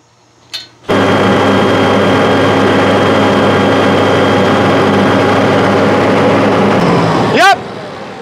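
An engine starts with a brief crank, then runs steadily and loudly through a test run while a hydraulic pump is checked with a pressure gauge; a sharp squeal-like sweep rises near the end before the steady roar continues.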